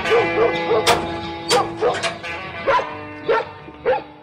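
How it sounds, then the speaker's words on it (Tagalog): A big dog barks repeatedly near the gate of a house, giving loud, close, evenly spaced barks in a steady rhythm. "Nagdakkel nga aso ti nakabawd iti asidig ti ruangan ti balay."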